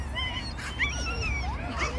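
A puppy whimpers and yips softly in thin, high wavering whines, continuous and close, with no talking.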